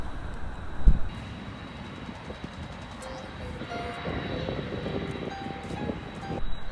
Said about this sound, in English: Come and watch the planes take off and land.